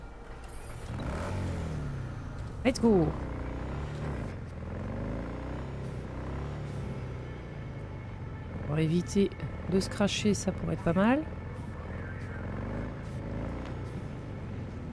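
Motorcycle engine in the Cyberpunk video game, a continuous low drone that rises and falls with several sharp revving sweeps as the bike speeds up, heard beneath someone talking over it.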